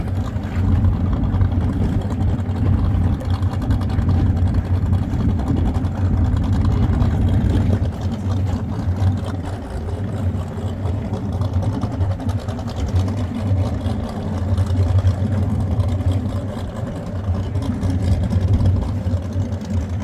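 A racing powerboat with twin outboard engines, a recreation of a 1970s-80s race boat in the Solent80 race, roars loudly and continuously for about twenty seconds, its pitch and intensity surging and easing as it runs.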